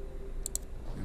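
A computer mouse right click, a quick pair of faint, sharp clicks close by against a quiet room hum.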